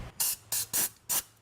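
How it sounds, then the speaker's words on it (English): Brake cleaner and compressed air blast a wheel bearing on a 2005-2012 Toyota Avalon, four short sharp hissing bursts in quick succession, close and alone. "I'm just gonna wash it out with a little brake clean. It's a little compressed air, just to get all the grooves, no grit."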